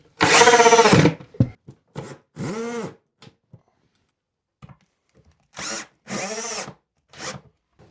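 A power screwdriver drives screws into place in several short, close whirring bursts, each rising in pitch, separated by quiet pauses and small handling clicks, with no voices.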